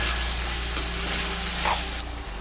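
Chopped tomatoes and garlic paste frying for chicken kadai, a constant loud close sizzle with a couple of brief stirring knocks, no talk.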